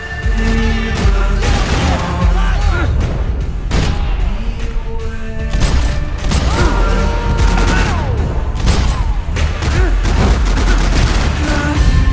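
Grenade blasts in the Max Payne 3 video game, a dense barrage of loud booms and gunfire-like bursts packed close together throughout, with clanking mechanical sounds mixed in.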